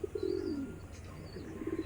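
Pigeons coo close by in a short run of soft, throaty calls. A few chirpy notes come at the start and again near the end.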